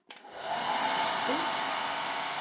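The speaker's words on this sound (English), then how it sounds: "when it takes forever to dry, get yourself your hairdryer out" A hair dryer clicks on and blows with a steady, loud whooshing roar that holds constant to the end, drying thick paint on a painting.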